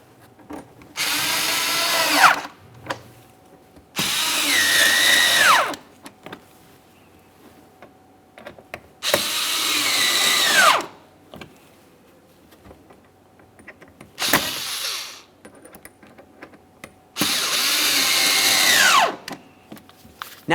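Bumper cover screws on a 2017–2024 GMC Acadia being snugged with a power tool: five separate bursts of close, loud whirring, each lasting a couple of seconds and ending in a falling pitch as the screw seats, with quiet gaps between.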